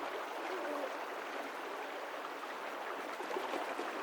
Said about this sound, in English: These are some sounds I grabbed from Numa Falls in British Columbia, Canada.